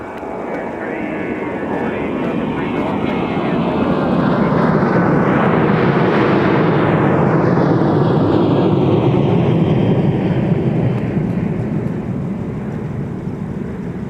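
A Southwest airliner jet at MSP airport roars past in a snowy setting, swelling loud and steady for about fourteen seconds with a rising and falling whine as it passes.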